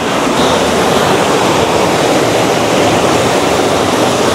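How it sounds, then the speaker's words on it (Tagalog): Talay Falls, a waterfall in Laguna, gives a loud, steady, broadband roar of rushing water heard close by, constant and unbroken with no voices over it. "Talay Falls yung nakikita sa taas."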